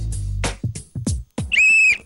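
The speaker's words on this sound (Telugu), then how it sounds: "బోర్డు మీద ఉన్న ఫోటోలు బట్టి మీరు విజిల్ వేయండి." A game show contestant on a Telugu TV set blows a single short, shrill whistle near the end, following a few brief low thumps and voices.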